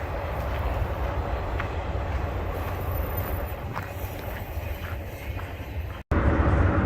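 A long freight train rolls steadily across a bridge at night in the Arizona desert, a continuous loud low rumble with faint metallic clanks and squeals, sustained throughout, with a brief dropout near the end.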